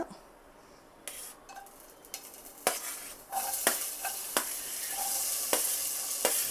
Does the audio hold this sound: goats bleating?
no